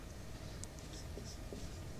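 Chalk or pen writing out a maths ratio solution in a Class 10 lesson, a steady scratchy scraping with a few brief squeaky strokes, close and fairly quiet over a low background hum, no talk.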